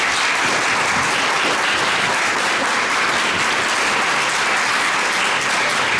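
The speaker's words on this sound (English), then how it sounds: "Everybody applauded for their candidates and so forth" Sustained audience applause at a Downey city council candidate forum, a dense steady clapping that fills the room at an even level for several seconds with no talk over it.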